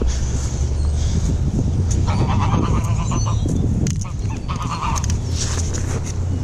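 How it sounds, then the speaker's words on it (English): Geese honk repeatedly in short bursts at a park, several calls sounding close over a constant low rumble of background noise, with a voice heard faintly at moments. "The geese are not happy."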